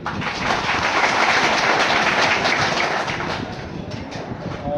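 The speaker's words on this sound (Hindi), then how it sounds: "डॉक्टर साहब मैडम के लिए जोरदार ताली हो जाए" A crowd gives loud, sustained applause for a visiting doctor and madam from the government health department at a tuberculosis awareness gathering, a dense wash of clapping that eases off slightly toward the end.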